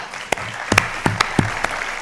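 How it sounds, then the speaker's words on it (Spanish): An audience at a talk claps in scattered, uneven bursts, with several sharp individual claps standing out over a light background patter, fairly close and with no speech. "Así que, Fran, aplauso para vosotros."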